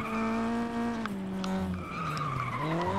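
Car tires screech in a long, loud skid during a Flatout 2 race, with the engine note gliding down and back up over the three seconds, close and continuous with no talking.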